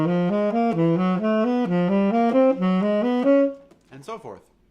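A wind instrument plays a quick run of short, evenly spaced notes that step steadily upward in a chromatic pattern, close and clear, followed by a brief spoken voice at the end.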